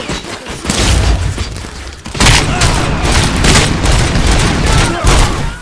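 Gunfire in the video game RoboCop: Rogue City: dense, loud bursts of shots and heavy booms crash almost nonstop, with thuds and impacts layered through the whole stretch.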